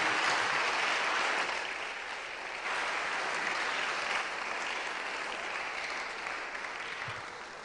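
An audience applauds at the grand finale of a national public speaking competition at a secondary school. The clapping is loud, dense and sustained, a continuous wash that dips slightly midway and holds steady to the end.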